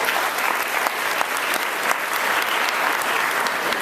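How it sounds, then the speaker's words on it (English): Audience applause at a 2013 FASA event, a thick, even burst of many hands clapping together at close range, continuous and without speech. "I wanted to give her a round of applause anyway"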